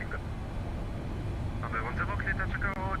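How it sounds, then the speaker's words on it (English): Engine 3 of a KLM long-haul airliner, the Queen of the Sky, spools up in the X-Plane 12 flight simulator, a steady whining hum under voices talking. "Starting engine 3. Starter valve open."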